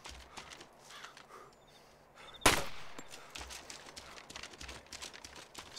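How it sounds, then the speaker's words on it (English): A single sharp AK-74 gunshot in ARMA 2 DayZ, loud and close, with a brief echoing tail over a low ambient background of faint game noise. "This gun sounds pretty nice."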